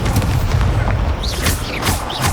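An Incendio fire spell is cast in Hogwarts Legacy and lands as a loud, booming burst with a rumbling, crackling roar, set against dense combat noise and a few faint whooshing effects.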